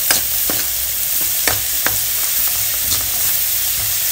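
Onions sautéing in a pan, a dense steady sizzle with intermittent clacks and scrapes of a utensil stirring, close up and without speech.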